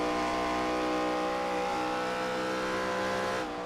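A NASCAR ARCA Series race car in iRacing holds a steady, near engine drone on light throttle, its harmonic tone sustained throughout with no talk, then dropping off slightly at the very end.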